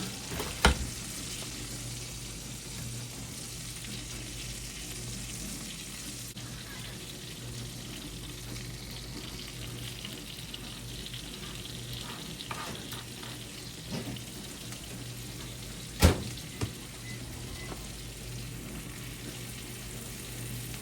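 Butter sizzles in a cast iron skillet over a lit burner with a steady, soft hiss and a couple of sharp knocks.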